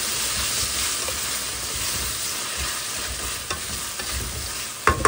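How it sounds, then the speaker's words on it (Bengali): Tempering (baghar) poured over boiled vegetables in a kitchen pot, producing a loud, continuous close sizzle with occasional stirring knocks and a sharp clatter near the end. "ভালো করে হচ্ছে সিদ্ধ করে এই যে এখন বাগার দিয়ে দিলাম।"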